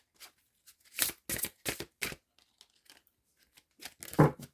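Tarot cards shuffled by hand in a quiet room, a handful of short, soft papery riffles and slides with pauses between them.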